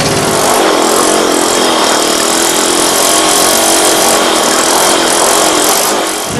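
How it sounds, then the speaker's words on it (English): A boat motor drones loudly and steadily as the craft travels toward a sunset at Danjugan Marine Sanctuary, a dense broadband roar with no pauses, close to the listener. "the motor is running and we are definitely on our way"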